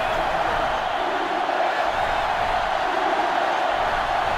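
A steady stadium crowd roars through a college football game in NCAA Football 2005, a constant broad wash of massed voices with no break, heard at moderate distance.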